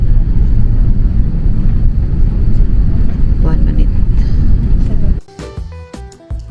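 Loud, steady low-frequency roar of an airliner cabin on approach to Doha, with faint voices underneath, cutting off abruptly near the end to quieter clicks and tones.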